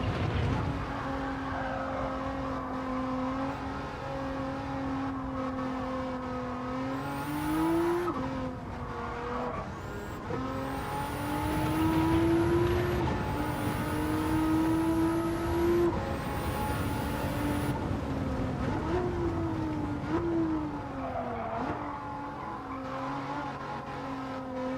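Engine drone and squealing tires from a car doing donuts in a sim racing game, steady and loud throughout with pitch rising and falling in repeated spins and skids.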